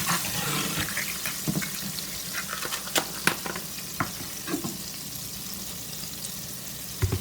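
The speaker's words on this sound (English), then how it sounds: "I'm also going to add some spicy pepper to that. And I'll stir that up." Spicy pepper being stirred into a chicken filling frying in a pan, with a steady close sizzle and scraping stirs throughout, no voices.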